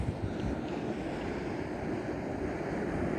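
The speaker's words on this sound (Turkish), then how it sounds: "Yalnız esen rüzgar çok serin esiyor abi." Wind blows steadily across the microphone, a broad rushing roar with faint watery surf underneath, no voices, on a waterfront with boats.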